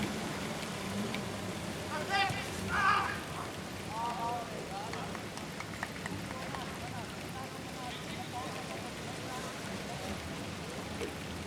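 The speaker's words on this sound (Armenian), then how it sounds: "մենք նորից մեզ մոտ Հորդառատ Անձրև է ընթանում" Heavy rain pours down during a football match in Gyumri, Armenia, a steady broad wash of noise. A commentator's voice runs over it almost the whole time.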